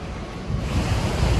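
A waterfall on a hiking trail roars close by, a dense steady rush of falling water with some wind buffeting the microphone.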